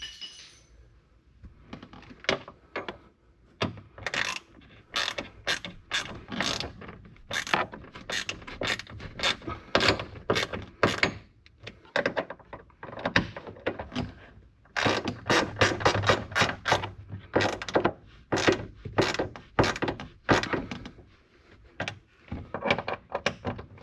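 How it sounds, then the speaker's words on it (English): Ratchet clicking in rapid bursts while tightening hardtop bracket bolts on a 1997 Mazda Miata, close and crisp, with short pauses between runs of clicks and occasional metallic clinks. "we're going to tighten these three first while pushing this way on the hardtop to make sure it's secure on that seal"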